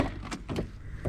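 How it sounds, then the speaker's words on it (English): Opening the door of a 1986 Toyota MR2 AW11 mid-engine car produces a few quiet, close mechanical clicks and a soft latch release over about a second. "Let's open the door."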